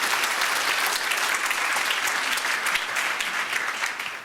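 Sustained audience applause at a school district education outlook presentation, a dense steady wash of many hands clapping that fills the whole stretch at even loudness with no speech over it.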